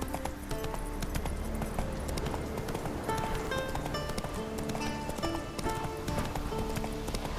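Hooves pound in a fast, steady gallop as a horse runs in The Witcher 3, the rhythmic clip-clop close and continuous under faint game ambience.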